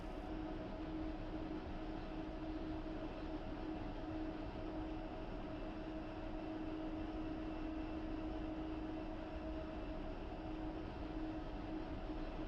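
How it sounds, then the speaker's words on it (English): An A-10 jet taxis over concrete slabs in the DCS flight simulator, its engine a steady, unbroken drone with an even rumble throughout and no voices. "Feeling all the little bumps from these slabs of concrete that I'm rolling over as well"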